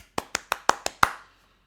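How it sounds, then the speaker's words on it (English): Six sharp hand claps in a quick, even series, close and crisp with short decay between them, then silence; no other sound beneath. "round of applause."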